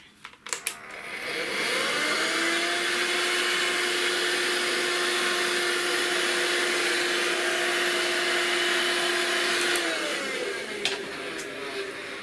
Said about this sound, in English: I'm going to vacuum this